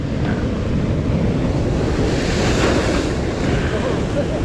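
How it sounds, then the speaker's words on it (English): Big ocean swell surges and crashes against rocks at a shore fishing spot for longtail tuna, a loud continuous roar of churning surf and wind buffeting the microphone. "That's not the wave you want when you're down there gaffing"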